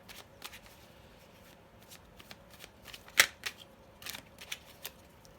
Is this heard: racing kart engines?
no